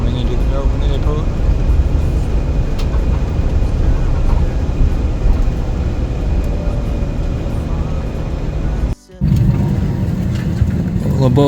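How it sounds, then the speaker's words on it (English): Steady loud rumble of aircraft and airport ground noise at Melbourne airport, a continuous engine roar throughout with a brief cut near the end. "Coming into the Melbourne airport."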